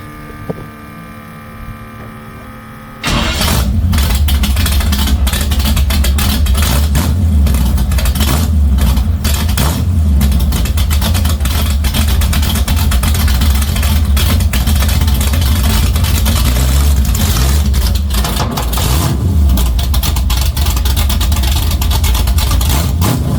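A Toyota engine runs with its exhaust removed, a loud, raw, rumbling drone that kicks in after a few quiet seconds and holds steady and close for the rest of the time.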